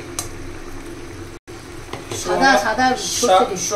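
Mustard sauce for hilsa fish curry boils in a pan. The bubbling is faint at first and grows into louder crackling and popping in the second half, and a voice talks over it.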